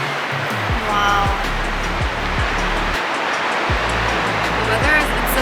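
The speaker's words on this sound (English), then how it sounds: "Can you hear the waves?" Ocean waves wash in a steady, loud surf roar outside an infinity pool hotel in Korea. People talk over the waves now and then.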